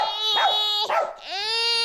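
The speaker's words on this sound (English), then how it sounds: "Coming up next, dog barking at crying baby." A dog yips, howls and whimpers in a high, wavering voice, with three close-up bursts across about two seconds, standing out alone with no talking and no baby's cry plainly audible.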